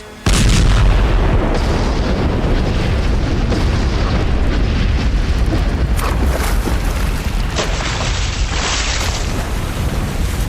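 A huge, sustained booming blast at a deep Himalayan tunnel entrance erupts and rumbles on for several seconds, a loud, deep roar with crackling debris throughout.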